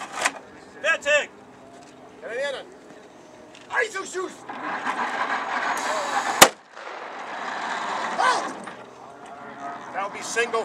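A German gun fires at a Massachusetts military expo: one sharp, loud shot cracks out midway while people talk over steady outdoor crowd noise.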